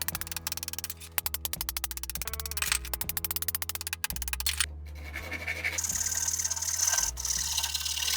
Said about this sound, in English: Starting to shape 2 slices and then carving the groove on each half of the handle.